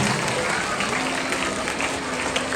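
An audience at a Christmas celebration applauds three PT teachers, producing a thick, continuous wash of clapping with a voice faintly underneath.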